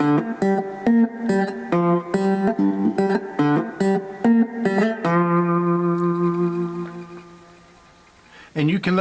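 Fretless three-string cigar box guitar played with a slide in a delta blues line: rhythmic plucked notes with sliding pitch for about five seconds, then a long sustained ringing chord fading out, heard alone and close.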